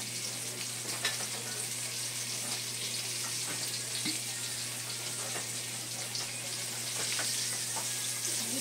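Chicken pieces frying in oil for crispy fried chicken, a steady, even crackle and hiss that fills the whole stretch without a break, with a low hum running underneath.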